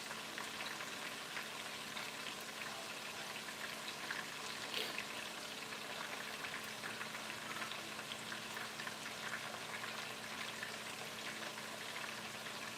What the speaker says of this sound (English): We got it searing up real well.